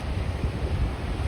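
Large ocean surf breaking at Sunset Beach on Oahu's North Shore: a soft, steady, distant roar of spray and wash, mixed with wind noise.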